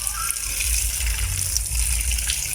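Water poured onto flower plants during a dry spell gives a steady, close gushing stream with light splashing, continuous and unbroken throughout.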